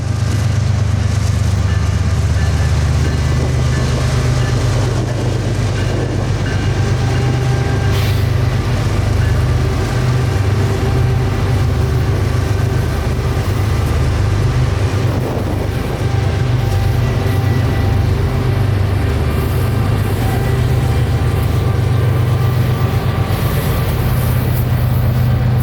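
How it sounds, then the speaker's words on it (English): A GE GEVO diesel locomotive rumbles steadily while pulling a long freight train, a loud, continuous low engine drone with wheel and car noise held at an even level throughout. "GEVO rev on a long train is one of the most powerful"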